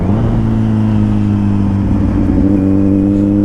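A 2021 Kawasaki Z900 motorcycle's exhaust rumbles loud and close, holding a deep steady idle before the pitch lifts slightly as the engine is revved.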